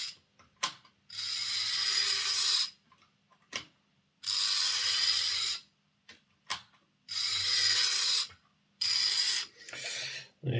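An Airfix Class 31 model locomotive runs its noisy motor on a test track, making a harsh mechanical whirr. The whirr comes in bursts of a second or two with pauses between them, and there is a faint clicking underneath.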